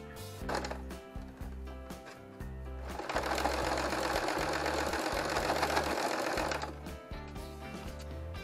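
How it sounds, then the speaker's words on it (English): A sewing machine stitches a quilt border into a window valance, a close mechanical motor hum with a rapid needle rhythm that speeds up into a dense, loud burst in the middle and then slows again. "so that I know exactly where I need to sew"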